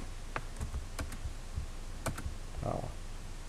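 Someone types on a computer keyboard, producing a close, irregular scatter of light clicks and taps against a quiet room background.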